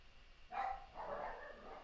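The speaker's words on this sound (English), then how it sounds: "Sorry if you guys hear all the dogs barking in the background." Dogs bark in the background, a couple of faint, distant barks in quick succession over a quiet room, with no talk over them.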